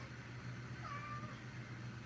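A house cat gives a single soft, drawn-out meow under a steady low hum of background noise, faint and indoors.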